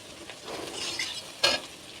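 Biulir dal being stirred and fried in a pan with asafoetida, a soft sizzle with a brief sharp utensil scrape near the middle, close and fairly quiet, no speech.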